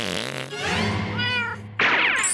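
A crowd of cartoon kittens meows loudly and close, the drawn-out meows overlapping and ending on a sharp, higher cry.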